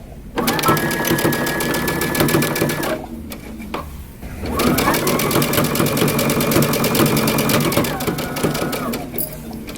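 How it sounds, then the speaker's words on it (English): A sewing machine runs steadily as a long coat facing is stitched with a 5/8-inch seam allowance, its fast even whir pausing briefly near the middle and then resuming close and loud under light background music. "Continue sewing all the way down"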